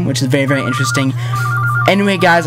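A telephone rings with repeated electronic trill bursts underneath someone talking, the ringing moderately loud but partly masked by his voice.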